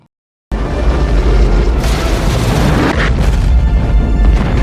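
After a moment of silence, a massive underwater-tunnel bomb explosion in a film hits suddenly and loud, followed by a sustained roaring rumble with a few secondary bursts.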